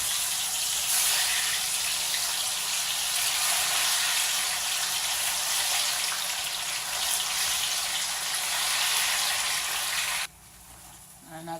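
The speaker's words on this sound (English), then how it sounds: "I've already put my oil on the fire, and the beans also is already done. Yep. So I'm coming to fry my plantain." Plantain frying in hot palm oil on a stove gives a steady, dense hiss and crackle that runs strongly for about ten seconds before dropping off abruptly, with some faint voice in the background.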